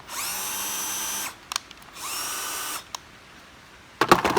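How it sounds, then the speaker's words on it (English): A small power drill whirs in two short bursts, spinning up and winding down, with a few clicks between and a rattling clatter at the end. "I'm going to be reviewing this new drill that I picked up for work"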